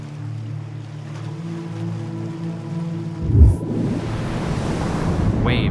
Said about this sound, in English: Waves, shaped by lunar tides, flow in a cosmic dance.